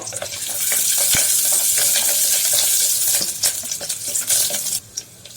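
Steady, loud sizzling of curry leaves and chopped garlic frying in hot oil, with occasional stirring clinks; the crackle thins out near the end.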